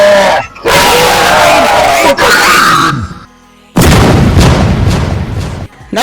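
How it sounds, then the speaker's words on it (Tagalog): Animated war scene with a sudden explosion and crowd battle cries, loud roaring bursts of shouting and blasts broken by a brief near-silent gap, then another dense surge of noise. "Nabigla na lang sila dahil may sumabog sa likod nila."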